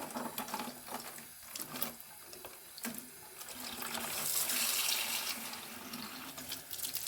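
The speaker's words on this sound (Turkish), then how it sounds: "Evet şöyle hafiften suyumuzu açıp şöyle yapraklarımızı hafif incitmeden" Tap water runs gently over the leaves of African violets being washed at a sink, a soft, steady trickle and splash that swells slightly midway, faint and alone.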